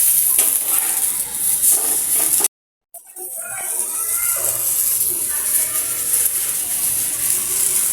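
Eggplant fries in a pan with a loud, close, hissing sizzle, cut by a brief dropout before the frying resumes. Faint voices sit under it.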